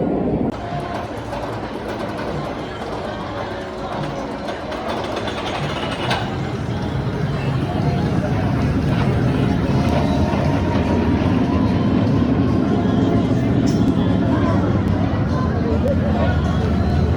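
A Trailblazer roller coaster runs with a loud, steady rumble and rattling clatter of its cars along the track for the whole ride, building a little louder partway through, with no voices over it.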